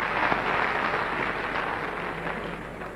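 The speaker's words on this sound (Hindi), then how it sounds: "तालियां बजाएं" Sustained applause from an audience at a 1992 memorial award show in a hall, a steady dense wash of clapping at moderate loudness throughout, with no speech over it.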